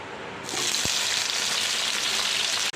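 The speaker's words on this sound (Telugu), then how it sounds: "మళ్ళీ కొంచెం ఆయిల్ వేసేసుకొని టమాటా ముక్కలు కూడా వేసుకోవాలి." Tomato pieces drop into hot oil, setting off a loud, steady sizzle that rises suddenly and holds close, with a single clack partway through.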